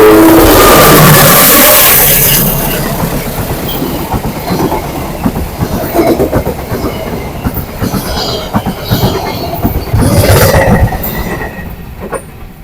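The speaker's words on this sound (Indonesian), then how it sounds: "Ini, iya, kereta mau lewat." A train rolls past on railway tracks, loud and close at first with high squealing wheels, then settling into rumbling, clattering wheel noise over the rails that swells again before fading, with no speech.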